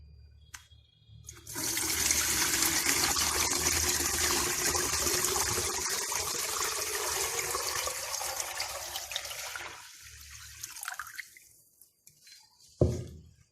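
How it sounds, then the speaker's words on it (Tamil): Water gushes from one bucket into another at home while filling an aquarium breeding setup, a loud steady splashing pour lasting about eight seconds, then tapering into trickles, drips and a final slosh. "இந்த பக்கெட்லேருந்து எடுத்து இந்த பக்கெட்டில் இப்போ தண்ணி ஊற்ற போகிறோம்"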